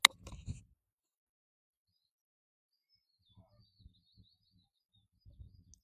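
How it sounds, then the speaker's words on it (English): A few small birds chirp outdoors on a mountain, faint, brief and spaced-out calls against near silence, after one short louder rustle at the start. "Hear the birds?"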